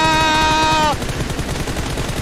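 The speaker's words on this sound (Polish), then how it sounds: "Już strzelają pierwszy, wchodzi Olek i mają ich" Gunfire in a competitive team shooter game scrim, a bursting volley of shots over a sustained tonal in-game sound that cuts out, followed by continuous dense crackling fire.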